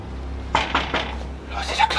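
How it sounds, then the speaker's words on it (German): Someone knocks on a door in a late-night horror video game: a few sharp, hollow raps, three in quick succession, then two more after a pause, fairly close and clear. "Leute, da klopft irgendjemand."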